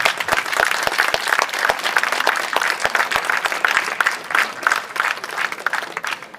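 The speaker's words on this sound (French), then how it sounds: "vous pouvez tous vous applaudir et applaudir toutes celles et ceux sans qui cette journée ne se tiendrait pas" Crowd applause at the inauguration of the Mennecy book fair, dense sustained clapping with a few sharp, close individual claps standing out, continuing evenly throughout.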